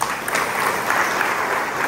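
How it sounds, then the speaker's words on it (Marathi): An audience at an outdoor village public meeting of fishermen claps loudly and steadily, a dense, sustained burst of applause filling the whole moment. "यासाठी तरुणांसाठी टाळ्या होत्या"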